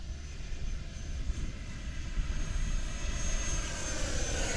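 An FMS F18 radio-controlled model jet flies over a rough park field, giving a continuous whooshing roar with a high whine that stays steady and moderately distant throughout.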